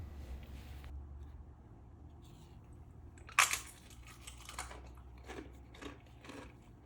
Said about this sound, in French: laissez-moi vous faire écouter ce croquant